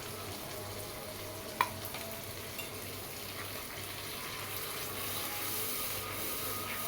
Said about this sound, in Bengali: সবগুলি মশলা আমি একটু ভালোভাবে নেড়ে নিচ্ছি, কষাই নিচ্ছি।